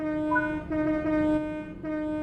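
Train running in the game Train Sim World 6, a steady tonal engine drone with layered harmonics and a slight change in pitch partway, close and continuous with no talk.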